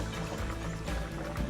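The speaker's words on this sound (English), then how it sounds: "You hear another waterfall." A waterfall in Barron Canyon, Algonquin, gives a steady rushing wash of water, moderately close, heard alone over a short moment.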